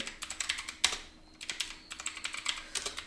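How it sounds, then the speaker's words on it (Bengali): Rapid keystrokes clatter on a computer keyboard in quick bursts with a brief pause midway, close and crisp, while a message is typed. "আমি এখানে মেসেজ লিখব"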